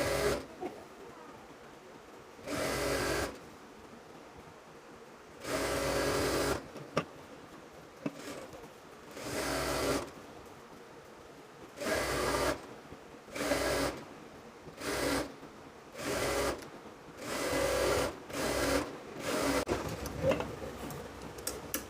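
A sewing machine stitches two pieces of a ladies' pant together in repeated short bursts of a few seconds each, separated by brief pauses, fairly loud and close with no talking.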